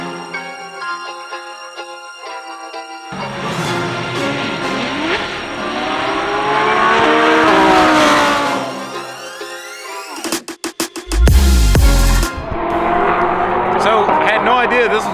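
GT race cars roar past turn 3 at Road Atlanta, engines swelling and fading as they go by, one passing loud and close with a rough rumble, while people talk underneath.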